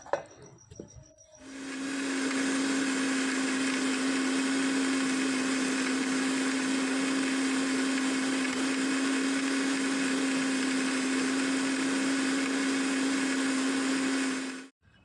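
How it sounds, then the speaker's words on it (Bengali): Kitchen mixer grinder blending spice paste with water for an egg omelette curry, starting up after a brief pause, then a loud steady whirring motor hum held for about thirteen seconds before cutting off. "চলো এখন হচ্ছে মিক্সি করে নিই"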